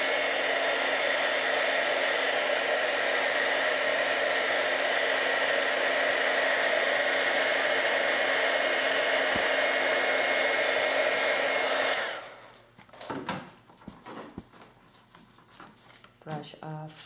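A heat embossing tool blows a loud, steady hot-air roar for about twelve seconds while melting glitter into heat and stick powder, then cuts off, leaving faint handling rustles.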